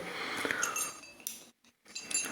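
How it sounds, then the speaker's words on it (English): Prestige induction-bottom cookware pans and a glass lid are set down side by side, giving a few sharp clinks and clanks of metal and glass at close range, separated by a brief silence. "So I will place all the attachments, all the 3 pans and the glass lid side by side"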